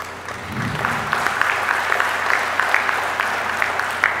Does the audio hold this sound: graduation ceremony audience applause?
yes